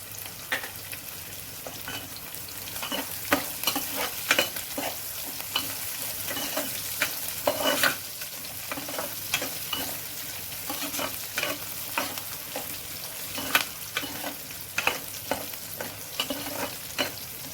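Cumin and mustard seeds crackle and sizzle in hot tempering oil, with steady frying hiss and scattered sharp pops and stirring scrapes throughout, close and fairly loud, no talking.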